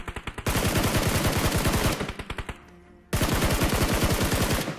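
Rapid automatic gunfire from an enemy team in a battle royale game rattles out in loud, close bursts of evenly spaced shots, broken by a short, quieter pause before firing resumes.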